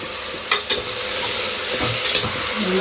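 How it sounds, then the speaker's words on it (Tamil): Tomatoes sautéing with onions in a pan for a mutton dish, a steady close sizzle with a few soft stirring scrapes and no talk. "ஸோ தக்காளி ஆட் பண்ணி நம்ம நல்லா வதக்கிக்கலாம்"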